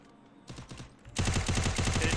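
Video game gunfire during a 4v4 shooter match: a few scattered shots, then a sustained loud burst of rapid automatic fire that runs to the end.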